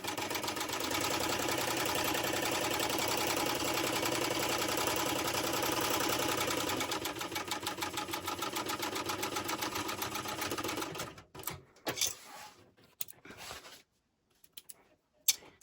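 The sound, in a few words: sewing machine stitching long edges of bag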